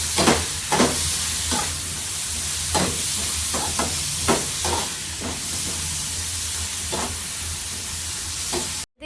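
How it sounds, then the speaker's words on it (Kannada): Sliced eggplant frying in a hot pan, a steady close sizzle and hiss with repeated soft stirring scrapes and clicks throughout. "ಈಗ ಬದನೆಕಾಯಿ ಹಾಕೋಣ. ಇದು ಮೆತ್ತಗಾಗೋವರೆಗೂ ಇದನ್ನ ಬೇಯಿಸ್ಕೋಬೇಕಷ್ಟೆ."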